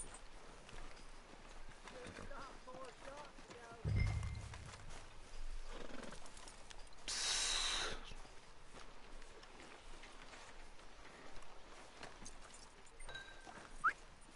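A horse in Red Dead Redemption 2 clip-clops with faint hooves, a low snort, and one brief neigh, all quiet beneath light game ambience.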